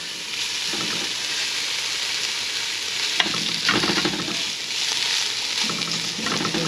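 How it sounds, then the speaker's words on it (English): Onions fry in a pan for Guyanese metemgee, giving a constant close sizzle broken by a few bursts of stirring and scraping as they are moved around. "Get a little fry going on my onions."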